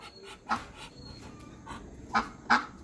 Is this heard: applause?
no